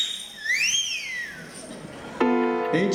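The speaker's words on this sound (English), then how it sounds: "Did any of you ladies, when you were young, ever get the wolf whistle?" A single wolf whistle rises and then falls during a harmonica group's stage performance, and a sustained harmonica chord enters shortly after.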